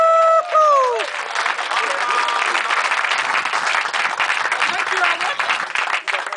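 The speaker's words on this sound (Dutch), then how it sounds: "Dus vandaag een groot applaus voor Maria." A crowd applauds Maria at a prize ceremony with steady, dense clapping that follows a brief spoken voice at the start and holds until the end.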